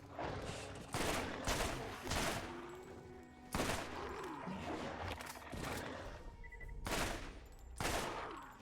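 Burst-fire weapons shooting in the video game Borderlands: a string of loud, sharp volleys repeating every second or so, each burst a dense cluster of shots with brief lulls of echoey rumble between them, no talking.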